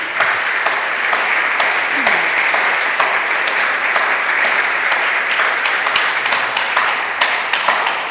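Audience applause during a Portuguese talk about Oeiras: sustained, dense clapping from a crowd, steady and loud throughout with a few sharper individual claps standing out near the front.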